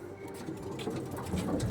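A pigeon, a hen held in hand, makes a short, low coo up close alongside soft pattering and rustling movement.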